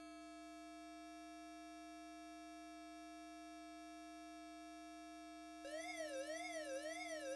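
Police siren in the Commodore 64 game Chase HQ, a steady buzzy synthesized chip tone that switches abruptly to a rising and falling warble siren, alone and electronic.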